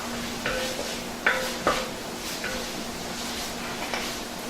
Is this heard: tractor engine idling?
no